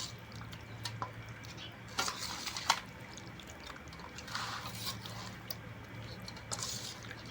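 Chicken karahi with spices being stirred in a pan, a soft wet squishing and scraping with a few sharper knocks, close but fairly quiet.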